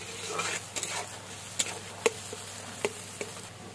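A spoon stirs watery fish curry masala in a pan, giving a soft background sizzle broken by several sharp scraping clicks spaced irregularly, close and fairly quiet.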